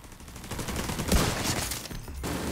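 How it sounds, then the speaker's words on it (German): Dense, sustained gunfire in The Division 2 as rounds are shot through a canister, a continuous rattling fusillade with a sharp burst near the middle, loud and without speech. "da habe ich durch den Kanister geschossen und einen Kopfschuss gemacht"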